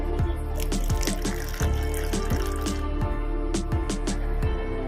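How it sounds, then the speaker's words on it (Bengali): Water is added to a mixture of turmeric and spices for a prawn paturi batter, with a rhythmic series of wet squishing, dripping pulses, close and steady throughout. "আমি এর মধ্যে জল দিয়ে দেবো"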